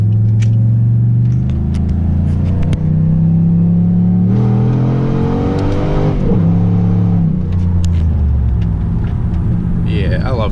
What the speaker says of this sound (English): I get a little first gear pull here.